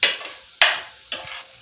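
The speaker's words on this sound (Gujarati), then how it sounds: "આ શાક વઘાર નાખ્યો." Spices hit hot oil as tempering for an eggplant and fenugreek vegetable curry, giving three sharp sizzling bursts that each flare loudly and fade, spaced about half a second apart, with no talking.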